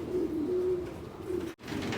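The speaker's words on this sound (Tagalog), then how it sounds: "ito yung mga ibon namin" Racing pigeons in a loft coo steadily, a close, continuous low warbling murmur from several birds that fills the whole stretch with only a brief gap near the end.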